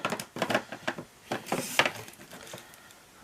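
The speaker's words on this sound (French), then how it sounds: "désolé pour le bruit, mais je préfère mettre du double face." Double-sided tape is pulled off its roll for a handmade card, giving a string of sharp, crackly ripping bursts in uneven spurts, close and fairly loud, with quieter gaps between pulls.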